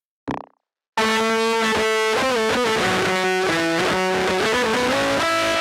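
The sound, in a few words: vocal through distortion effects pedal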